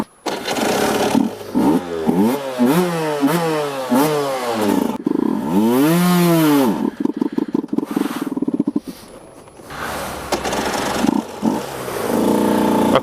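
KTM RC125 or Aprilia RS125 two-stroke motorcycle engine under riding, loud close revving that climbs and drops in repeated rapid shifts, then a long rising and falling rev before settling into a steady drone.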